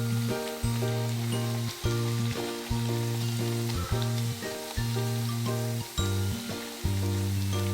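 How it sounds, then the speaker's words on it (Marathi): Mixed-vegetable gharge fry in hot oil with a steady, close sizzle that carries on throughout, over a repeating tonal backing. "छान व्यवस्थित दोन्ही बाजूनी तळून घ्यायचं आहे"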